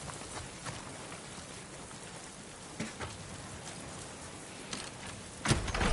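Rain in the video game The Last of Us Part II, a steady dense patter on surfaces with a few sharper drops and knocks, ending in a louder burst.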